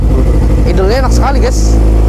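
A newly bought big motorcycle with a fresh, not-yet-full-system aftermarket exhaust idles with a steady low throbbing burble, while someone talks loudly over it.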